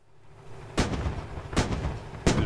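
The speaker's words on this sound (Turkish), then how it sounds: "Biri bana sıkıyor ya." Gunfire in the military shooter game Squad: three sharp, loud shots spaced well apart, each followed by a rumbling tail and no talking.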